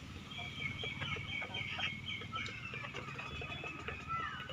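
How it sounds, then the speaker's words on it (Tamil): Chickens clucking nearby in short repeated bursts, with several birds calling over a low background murmur. "கோழி"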